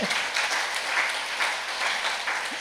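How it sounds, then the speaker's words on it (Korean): Audience applause during a lecture on faith and culture, an even, sustained round of clapping from many hands at moderate volume throughout nearly three seconds, with no talking over it. "그럼 박수를 좀"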